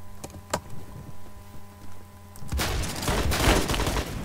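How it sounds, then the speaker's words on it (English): Gunfire in the Roblox game Phantom Forces: a few isolated shots over a humming background, then a dense rapid burst of automatic fire that keeps going to the end, loud and close. "They're shooting at me right now."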